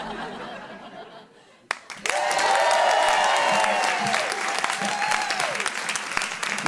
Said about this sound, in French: Chaque fois que j'apparais, vous applaudissez.